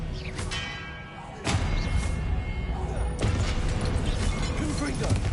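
The Expelliarmus disarming spell goes off in the Hogwarts Legacy video game on PS5, a sudden whooshing magical burst with a thud, followed by a sustained, dense rush of noisy spell effects.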